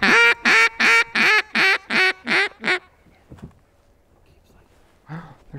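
Eight rapid, loud, evenly spaced nasal quacks, probably from a duck call, sound on a duck hunt, followed by quiet and then a brief distant call.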